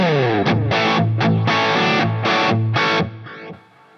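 Distorted electric guitar through a Line 6 Helix plays a loud, sustained riff of chugging notes with a thick, saturated tone, ending as the last chord fades out.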